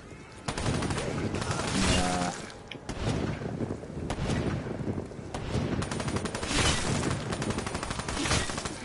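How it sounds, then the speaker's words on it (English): Sustained machine gun fire in Call of Duty Black Ops 3, loud and nearly continuous rapid bursts with heavy booms mixed in, with voices talking underneath. "Well, I've got a machine gun."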